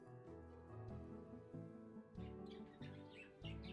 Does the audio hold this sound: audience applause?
no